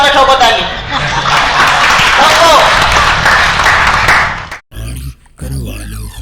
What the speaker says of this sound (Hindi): इसी बात में ठोको ताली।